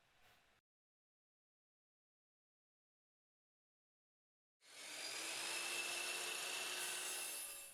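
A miter saw cuts through wood: a brief burst at the start, then a long pause before a loud, sustained whining cut lasting about three seconds, close and alone.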